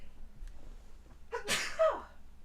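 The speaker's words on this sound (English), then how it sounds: "Let me sneeze." A single sneeze, a quick breathy intake followed by a sharp burst, fairly close and alone.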